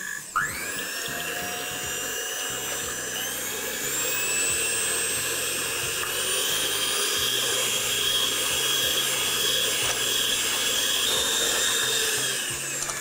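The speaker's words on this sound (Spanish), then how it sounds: "vamos a comenzar a batir a velocidad máxima" An electric mixer whips egg whites at maximum speed, a loud, close, high whine that stays steady throughout after a quick start-up.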